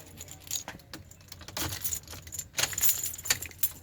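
A bunch of car keys jangles close by in irregular bursts of bright metallic clinking, quiet and unaccompanied by talk.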